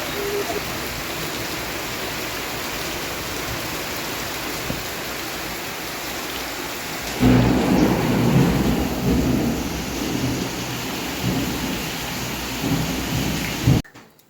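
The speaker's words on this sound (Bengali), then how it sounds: "মুসুলধারে বৃষ্টি হচ্ছে" Steady heavy rain pours throughout, with a deep rumble of thunder swelling in the second half before cutting off abruptly near the end.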